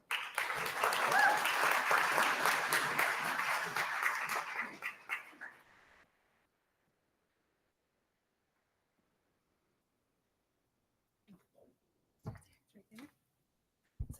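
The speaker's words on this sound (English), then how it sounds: "A round of applause for our closing speaker." Audience applause at an undergraduate research awards event greets a closing speaker, a dense wash of clapping for about five seconds that fades out, followed by silence and a few faint scattered noises.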